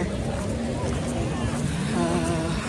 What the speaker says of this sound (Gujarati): water bike